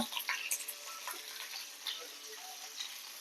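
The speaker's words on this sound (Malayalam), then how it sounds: "നന്നായിട്ട് ഒന്ന് വറുത്ത് കൊടുക്കുക" Soft crackling sizzle of cashews and curry leaves frying in oil for sago upma, with scattered light pops and ticks, fairly quiet and close.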